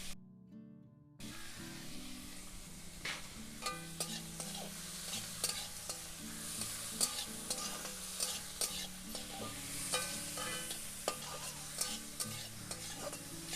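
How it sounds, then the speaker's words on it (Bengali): Onion and chopped tomato frying in a pan for pulao, stirred with a utensil: a steady close sizzle runs throughout with repeated scraping and stirring clatter, no talk. "সবকিছু দিয়ে আমি কিছুক্ষণ ভালো করে নাড়তে থাকবো।"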